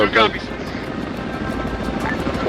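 A military helicopter in the video game Arma 3 drones steadily as a continuous rotor and engine roar, loud and close, while someone talks over it.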